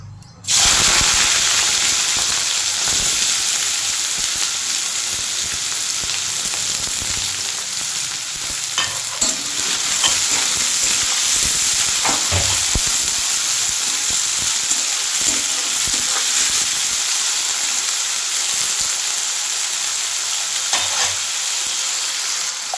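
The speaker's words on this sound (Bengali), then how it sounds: "সাদা তেলে ভালো করে ভেজে নেব লাল লাল করে" Chopped onions frying in white oil in a wok until reddish, a loud, continuous sizzle lasting throughout with occasional stirring scrapes and small pops, no voices over it.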